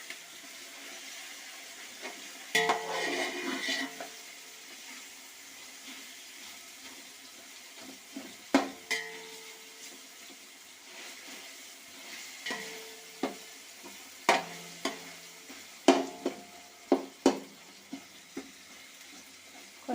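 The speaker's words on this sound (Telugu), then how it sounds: "ఇలా బాగా కలబెట్టేసుకోవాలండి" A chicken dum biryani mixture with tomatoes, made with basmati rice, is stirred in a pot: scattered scraping clacks and wet shuffling over a soft sizzle, with sharper knocks bunching toward the end.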